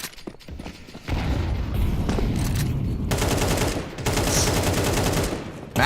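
Rapid gunfire from a Counter-Strike match, including a USP pistol, loud and close in fast repeated bursts with a short pause midway.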